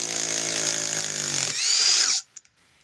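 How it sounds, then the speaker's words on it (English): A cordless impact driver with a hesitating trigger whirs steadily with a high whine, rising in pitch briefly before cutting off, followed by a couple of faint clicks. "See, this impact driver has a hesitation in the trigger."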